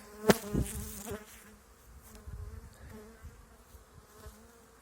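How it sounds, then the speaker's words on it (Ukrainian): Honeybees hum in a dense, continuous drone as they swarm out of their hives in a mass cleansing flight on a mild January day, with a few close buzzing passes over the steady background hum. "В кожному вулику повилітали. Гул як серед літа."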